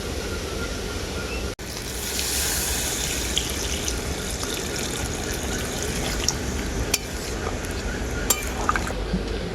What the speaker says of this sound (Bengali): এখন এর মধ্যে দিয়ে দেবো পরিমাণ মতো জল